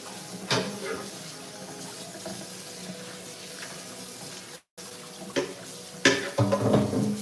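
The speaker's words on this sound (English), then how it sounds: "Lentils rinsed, ready to go in here." Lentils are rinsed under a running kitchen tap, water splashing steadily into a sink with occasional louder bursts and clinks, briefly cutting out before resuming.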